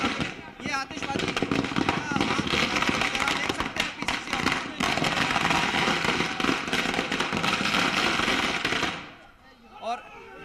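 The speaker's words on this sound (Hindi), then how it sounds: "ये आतिशबाजी" Firecrackers and fireworks burst in a dense, rapid string of loud crackling pops at an outdoor Karnataka election victory celebration, continuing for several seconds before stopping abruptly, with people talking amid the noise.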